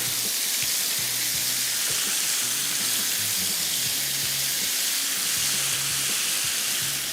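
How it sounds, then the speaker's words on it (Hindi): Chicken with lemon juice fries over high heat, giving a loud, dense, continuous sizzle with a watery hiss, heard close up and without talking. "ये आ गया चिकन, तेज़ आंच पे इसको 6 से 7 मिनट पकाना है।"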